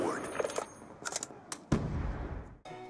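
Gunfire from a standout weapon in a Call of Duty game, heard as short bursts of rapid shots followed by a loud, sustained volley near the end, punchy and close with a ringing tail.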